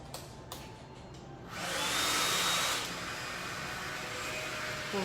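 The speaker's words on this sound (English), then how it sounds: "I'm going to pull out my blow dryer." A hair dryer switches on and whirs on its low setting with a steady airy hiss at a fairly soft level, after a couple of faint clicks.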